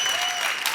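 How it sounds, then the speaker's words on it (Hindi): Studio audience applause on The Kapil Sharma Show comedy program, a brief burst of dense clapping with a faint tone held underneath. "जोरदार तालियां"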